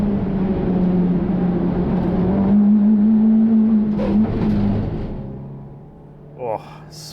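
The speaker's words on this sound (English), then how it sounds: "Oh, sweet gear change, Matt." A race car at Winton circuit holding a steady engine drone that rises slightly in pitch before dropping away, heard from inside the car with a brief bump near the end.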